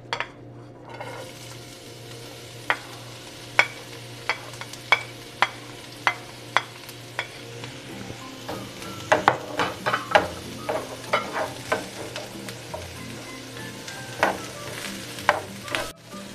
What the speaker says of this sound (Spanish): En un sartén ponemos un poco de aceite. Yo utilizo aceite de oliva. Y vamos a poner a citronar la cebolla